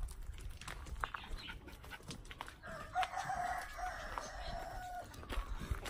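Colored chickens at a zoo raise a sustained alarm call as a crow approaches, a drawn-out wavering cry with scattered clucks and rustling in the background.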